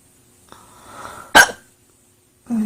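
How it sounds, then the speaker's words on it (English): A single sharp, loud hiccup stands out after a soft breathy sound, followed by quiet and another brief sound at the end. "Oh, I always get hiccups"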